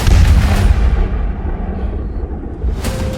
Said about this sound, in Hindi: वेनेजुएला के आसमान में गोले बारूद बरसने लगे।